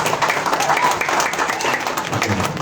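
Applause from an audience at a media gathering for the launch of Cupu, a Transvision platform, dense steady clapping filling the space with some voices mixed in underneath.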